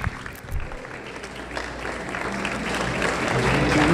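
An audience at a hospital anniversary talk show bursts into continuous clapping that swells gradually louder, a broad crowd sound with no speech over it.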